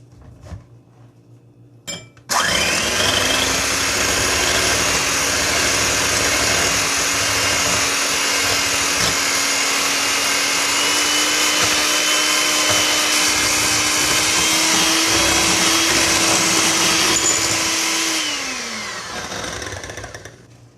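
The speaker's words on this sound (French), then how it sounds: "Maintenant je vais battre les blancs en neige." An electric mixer whirs steadily as it beats egg whites with a pinch of salt for homemade lemon sorbet, starting abruptly after a few faint knocks and running loud and continuous before winding down near the end.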